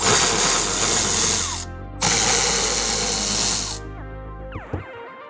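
A power ratchet spins bracket bolts out of the dash of a Polaris Xpedition, two loud buzzing bursts split by a short pause, then quieter clicks and clatter as it stops.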